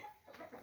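Short clucking from free-range Indonesian village chickens on a farm, a few soft broken clucks close by over a faint background hum.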